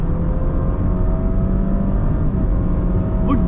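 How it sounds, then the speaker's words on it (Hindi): A Honda ZR-V Hybrid car accelerates under throttle from about 70, giving a steady, loud whirring engine drone with road and wind noise throughout. "मैं थ्रॉटल करने वाला हूँ 1 2 3।"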